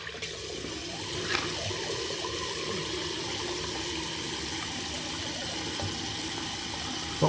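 A tap runs steadily at close range for rinsing after a wet shave with a safety razor, a continuous hiss and splash with no talking.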